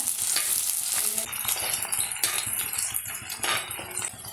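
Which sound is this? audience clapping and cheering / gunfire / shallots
shallots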